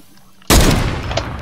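Gunfire erupts in a first-person shooter game: one sudden loud shot rings out after a quiet lead-in, its blast trailing into a noisy decaying tail.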